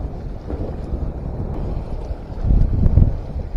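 Steady wind rushes and buffets the microphone at sea off Yeosu during black sea bream fishing, a low continuous roar that swells louder toward the end, with no voices.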